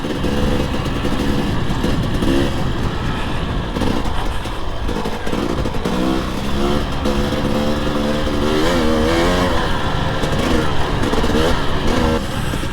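A KTM 300 XC-W TPI two-stroke dirt bike ridden on park trails, its engine droning steadily and loudly throughout with rising and falling revs, close to the listener.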